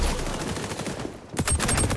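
An MP5K submachine gun fires in the XDefiant video game, quick bursts of rapid shots that stop briefly and then start again.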